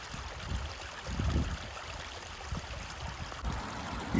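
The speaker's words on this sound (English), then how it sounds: "there's this little quick running stream here I want to show you" A small, quick-running stream in a wooded park trickles and gurgles nearby, a soft continuous wash of water with gentle swells in level.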